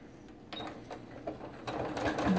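A sewing machine stitches a prairie point border onto a bow tie quilt top, running in close, steady mechanical bursts that speed up toward the end over a low motor hum.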